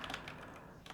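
Typing on a computer keyboard while writing HTML code, a quick flurry of soft key clicks at the start and another short burst at the end, close and quiet with no talking.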